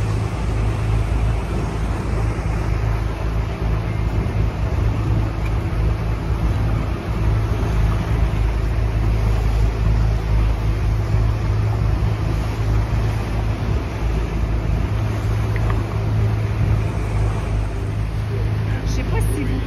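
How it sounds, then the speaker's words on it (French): Steady traffic rumble from cars driving into a road tunnel near Positano, a continuous low drone heard from a distance with no clear individual passes. "il y a des voitures qui circulent et qui entrent dans ce tunnel-là."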